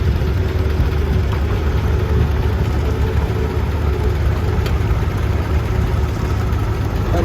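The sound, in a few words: 1944 John Deere Model A tractor engine idling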